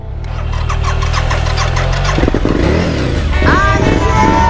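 A motorcycle engine cranks and catches, then revs up and settles into a rough idle, loud and close, while a person briefly calls out over it.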